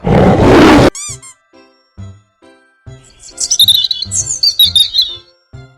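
Bright bird chirps and tweets in quick clusters over a soft rhythmic beat, following a short burst of lion-like roaring at the start, from a 3D animated children's animal video.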